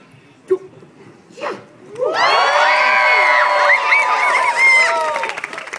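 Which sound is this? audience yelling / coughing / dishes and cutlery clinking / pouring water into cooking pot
audience yelling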